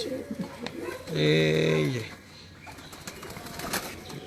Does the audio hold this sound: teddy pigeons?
yes